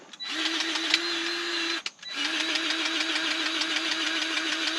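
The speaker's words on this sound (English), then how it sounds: "And start pumping grease." A grease gun pumps grease into the track tensioner of a skid steer, giving a steady mechanical whine with a pitched tone that breaks off briefly midway and then resumes, loud and close.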